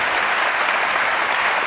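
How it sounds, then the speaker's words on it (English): Applause from a JSConf audience after a demo, a dense, even rush of clapping from a full room, sustained and loud through the whole moment with no talk over it. "Can we give Dickson a round of applause for the demo?"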